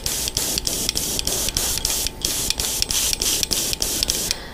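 An airbrush sprays a paint coating onto a fishing lure in short, evenly spaced hissing bursts, about a dozen in quick rhythm, close and clear, with a faint steady mechanical tone beneath.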